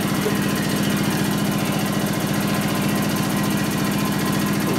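A wire-feed welder lays a bead with spatter in a motorcycle engine shop, giving a steady, loud, dense crackling buzz that runs unbroken throughout.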